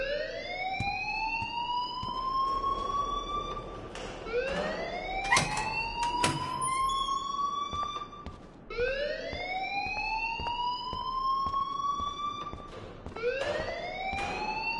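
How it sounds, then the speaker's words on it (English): A rising, wailing electronic alarm repeats in long sweeping cycles inside the Life is Strange video game, loud and steady with no talk over it. "please turn off that alarm since that's your job"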